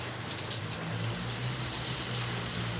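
Heavy rain pours down steadily as a dense, continuous hiss with a low rumble beneath, fairly close and uniform throughout, with no talk.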